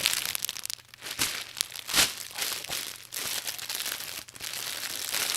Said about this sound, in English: So again, sorry about the crinkling.